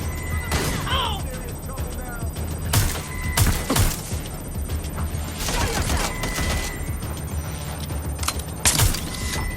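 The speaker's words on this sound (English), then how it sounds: "Shots fired!" Bursts of gunfire ring out from security goons in the Watch Dogs Legion video game, several sharp broadband volleys spread across the stretch over a steady game ambience, with a voice speaking between shots.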